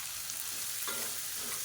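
Cut carrots sauté in a pan over a medium flame for carrot chutney, a soft continuous sizzle and fry with a couple of faint stirring scrapes, heard alone without talk.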